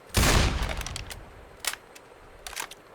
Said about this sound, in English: By the way, this is a shotgun. It's like a sniper shotgun.